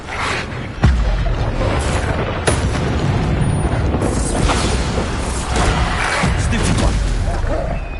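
Bombarda blasting spell explosions in Hogwarts Legacy, a sharp boom near the start followed by a dense, continuous barrage of spell impacts and combat noise, loud and sustained throughout.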